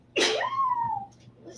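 A single short sneeze, sharp and close, rising into a brief tonal trailing sound before quiet room tone returns.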